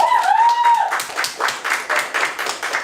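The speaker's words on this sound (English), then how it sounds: "We'll clap for that" A short musical tone fades out, then a small group claps in an uneven rhythm, a handful of distinct slaps repeating, fairly close and moderately loud.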